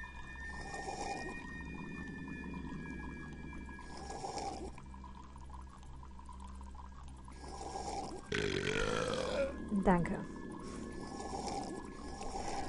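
A character in the King's Quest 8 video game burps after drinking from a fountain, a loud, drawn-out gurgling belch over game music and ambient tones, followed by a brief spoken word.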